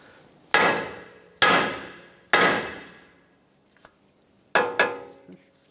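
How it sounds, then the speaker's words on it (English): Heavy hammer blows strike a steering knuckle on a 2012-2020 Ford Focus to knock the tie rod stud loose during front wheel bearing replacement; four loud, ringing metallic impacts with a faint tap between, close and alone. "Now the hammer right here, that'll break the tie rod stud off of the knuckle."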